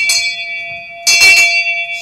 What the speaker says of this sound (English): And I rang my bell.